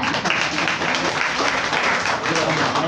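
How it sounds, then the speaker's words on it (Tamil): Applause from an audience at a Tamil readers' circle literary event, steady dense clapping throughout with voices mixed in beneath. "கைத்தட்டுங்க"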